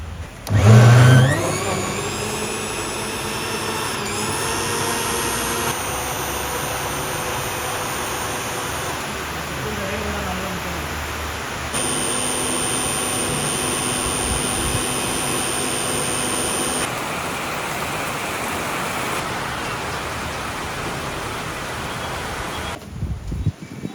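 A mixer grinder loudly blends a banana smoothie sweetened with sugar syrup, a steady high whir that holds for about twenty seconds with slight shifts in pitch, then cuts off abruptly.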